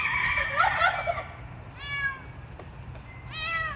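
A cat meows several times, loud drawn-out cries with quiet pauses between them, heard close by with no talking.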